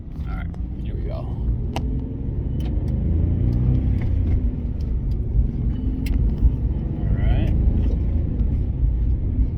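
A 2005 Jeep Liberty Renegade drives down a street, its low engine rumble steady and close from inside the cabin, swelling slightly as it gets under way, with a person speaking briefly over it.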